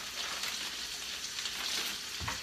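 Food fries in a hot pan on the stove for a keto spaghetti squash casserole with ribeye, a steady close sizzle and crackle that fills the whole stretch, loud and continuous with no voices over it.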